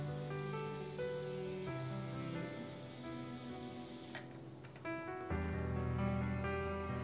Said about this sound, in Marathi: खर्डा पण तेलामध्ये छान परतून घ्यायचा आहे.